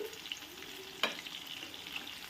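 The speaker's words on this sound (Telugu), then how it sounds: "ఇలా గంటతోని రెండో వైపు కూడా తిప్పి వేసుకోవాలండి" Masala-coated chicken fries in a pan and is flipped with a ladle, a quiet continuous sizzle broken by one sharp scrape or clack of the turn, close and faint, no speech.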